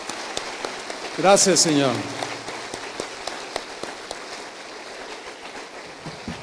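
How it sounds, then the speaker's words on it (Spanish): A church congregation claps for a few seconds at a house of prayer service, a steady patter of hands that keeps going under a brief spoken thanks from a voice near the start. "Dale un aplauso al Señor."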